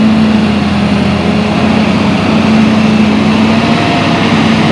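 A tractor running over the top of a muddy levee to knock it down, its engine a loud, steady close-up hum with a constant low tone and no pauses.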